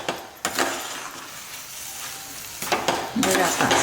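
Cooked dal being stirred and sautéed in a pan, a loud close sizzle with sharp scraping strokes of the spatula at the start and again near the end.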